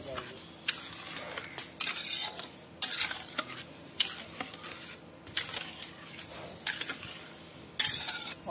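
Sugar syrup melts in a pot over a desi clay stove while being stirred, giving repeated scraping strokes in an irregular rhythm over a soft bubbling sizzle, close and moderately loud.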